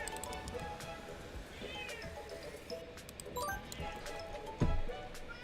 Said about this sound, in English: that's my cat meowing at me